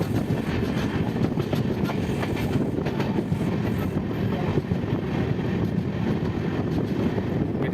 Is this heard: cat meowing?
no